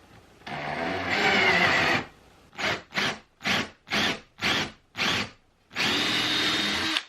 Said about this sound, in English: I need to drill a 5/16 hole into this piece right here